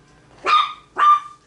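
Two sharp dog barks close by, about half a second apart, loud and alone in a quiet room.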